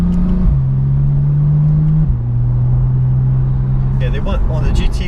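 A 2016 Porsche 911 Turbo S accelerates hard, its engine a steady low drone heard from inside the cabin that steps up in pitch partway through and rises again near the end.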